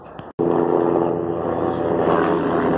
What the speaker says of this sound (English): helicopter flying over, unfortunately